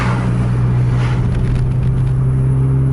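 A bus engine on the road gives a steady, deep droning rumble close by, holding a constant low tone with road noise over it.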